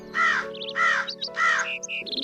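A crow caws three times in quick succession, loud and close, followed by a few softer chirping notes at the end.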